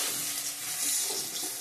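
Sliced onion and whole spices sputtering in hot oil make a brief, even, close sizzle with no talk.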